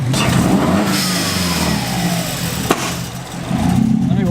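A turbocharged Subaru WRX engine revs loudly nearby, its pitch sweeping up and down with a brief sharp blow-off valve puff in the middle, ending in a renewed rising drone.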